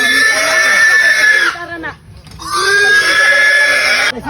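Pigs on a farm, being caught and taken away for weighing, squeal loudly in two long, shrill bursts separated by a short break, with grunting mixed in.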